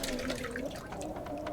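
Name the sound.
water in video game The Long Dark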